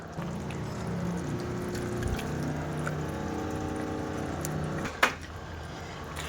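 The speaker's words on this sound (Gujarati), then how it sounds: "જે બાફેલાનું ચણાનું પાણી છે આમાં મિક્સર જારમાં લઈ લે અને ખખડાવીને બધું લઈ લઈશું" Boiled chickpea water is poured into a mixer jar and swished around, giving a continuous gurgling slosh over several seconds, ending with a sharp clunk near the end.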